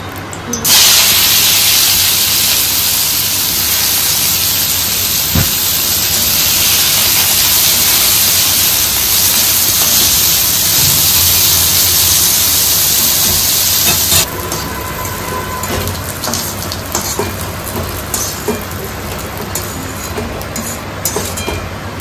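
Broad loud hissing and spattering close by, like food frying in a pan while a pulse and gourd dish cooks at home, steady for most of the stretch then easing off, with faint voices in the background.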